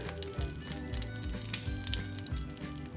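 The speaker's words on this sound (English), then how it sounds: "let's just fry until the aroma starts to come" Whole spices frying in hot oil for butter chicken: black cardamom, green cardamom, cloves, bay leaf and cinnamon stick, a steady close sizzle and crackle with no talking.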